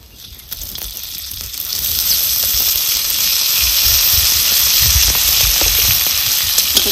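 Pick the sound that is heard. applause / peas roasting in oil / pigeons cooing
peas roasting in oil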